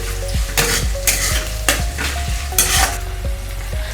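Onion and tomato fry in a pan, salted, for Maggi masala rice, while a spoon scrapes and stirs through them. A steady sizzle runs throughout, with the utensil clinking against the pan in several bursts.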